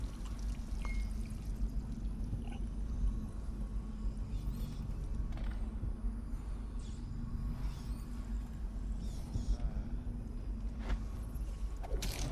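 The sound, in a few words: drinking water in Dishonored video game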